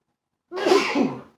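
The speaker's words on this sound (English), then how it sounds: "I'm going to sneeze in a second." One sneeze, close and fairly loud, a sharp breathy burst after silence that trails off quickly.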